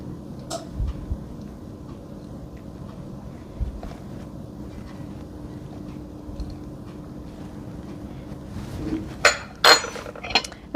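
Metal spoon scraping and clinking against a skillet while working under raw chicken skin to loosen it from the breast meat, soft scraping with a few sharper clinks near the end.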